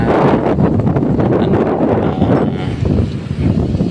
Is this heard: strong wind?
yes